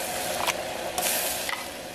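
Ground coconut paste being stirred into pineapple pachadi in a pan: a steady sizzle with a few sharp scraping strokes of a spoon, close and fairly loud.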